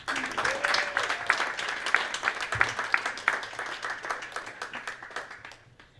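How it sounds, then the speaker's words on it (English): Studio audience applauding and cheering for guest author John McNally: steady, dense clapping with sharp individual claps, holding for several seconds before thinning out and fading at the end, no speech over it. "please clap and cheer for our old friend"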